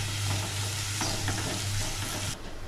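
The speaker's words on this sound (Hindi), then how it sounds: "अभी इसको अच्छी तरह सौते कर लेते हैं" Garlic, onion and green chillies sauté in a hot pan, a loud, dense, continuous sizzle with stirring scrapes, close up, easing slightly at the end.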